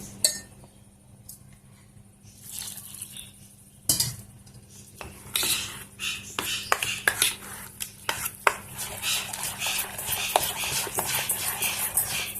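Rava dosa batter being mixed with water in a bowl, with dense clinking and scraping of a spoon against the vessel, steady and close, growing busier toward the end with no talking.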